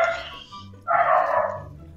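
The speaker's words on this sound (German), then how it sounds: "Dein Hund ist ziemlich laut, ne?" A dog gives two quick barks close by, the second louder and longer, over a quiet background.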